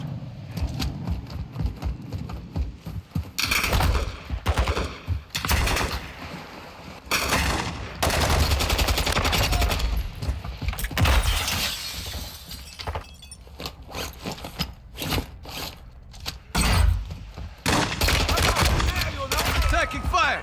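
Gunfire in the Call of Duty DMZ video game, loud repeated bursts and rapid shots with sharp impacts and explosive cracks, dense and continuous with brief gaps, mixed with game audio.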